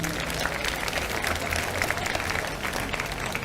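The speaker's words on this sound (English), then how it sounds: "So a round of applause for Robin Hood, is that all right?" Applause from an audience at a mass meditation and holistic well-being day in Nottingham, greeting a guest dressed as Robin Hood: a steady, even wash of clapping that fills the space, with faint crowd murmur underneath.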